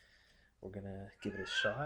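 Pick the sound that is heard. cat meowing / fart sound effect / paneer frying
cat meowing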